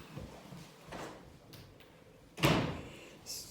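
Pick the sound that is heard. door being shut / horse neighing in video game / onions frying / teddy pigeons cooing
door being shut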